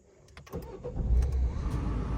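A Peugeot car engine cranks and catches after the new ignition key is turned, a low rumble building within a second and settling into a steady nearby idle.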